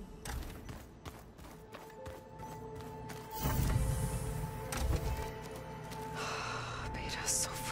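Mechanical door unlocking and opening in the video game Horizon Forbidden West, a rumbling, grinding thud mid-clip followed by whooshing movement, heard over a low ambient hum with a faint voice nearby.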